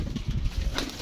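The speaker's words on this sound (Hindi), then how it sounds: "ये भी कबूतर लाल आंखों का कबूतर है" Red-eyed pigeons cooing in a brief, soft burst of low throaty calls, close by with faint background noise.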